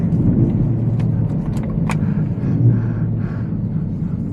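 Ford Raptor truck with a 3.5 EcoBoost engine and many upgrades driving, a steady loud low engine rumble and road drone running throughout with a few faint higher clicks mixed in.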